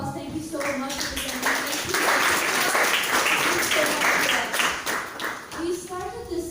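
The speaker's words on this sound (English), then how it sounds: "Please give a big round of applause." Applause and clapping from an audience at a law-tech hackathon event in Malaysia, a sustained dense patter of hands lasting several seconds, with voices mixed in.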